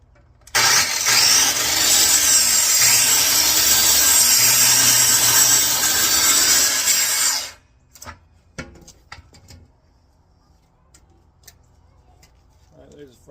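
A hand saw cuts through a 1x3 wooden board in steady, close strokes for about seven seconds, then stops, leaving a few light knocks and handling sounds.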